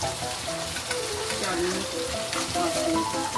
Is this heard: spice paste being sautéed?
yes